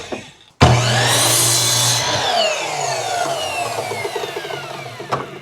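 A power saw cuts through a piece of 2x4 lumber about four inches from the end, starting abruptly with a loud motor whine and continuing for several seconds as the blade bites through the wood before winding down.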